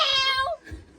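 A single cat gives one short, clear meow up close, a rising then falling cry lasting about half a second, followed by quiet.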